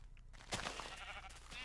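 Sheep bleat in the video game Minecraft, a faint wavering call set in a dense, noisy background with no talk.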